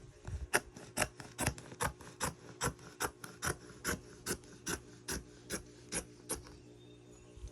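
Scissors or shears trim seat cover fabric in a quick, even series of about twenty crisp snipping cuts, close and alone with no talk.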